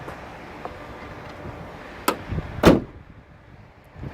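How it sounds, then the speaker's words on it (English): A BMW X5M car door is opened nearby, giving a clunk of the latch followed by a louder thump, over a low, steady background hiss. "let's open up that door"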